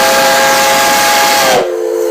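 A newly made steam whistle on a Virginia & Truckee Railroad locomotive sounds one loud, sustained chord with a hissing edge, then quickly drops to a softer, thinner tone near the end.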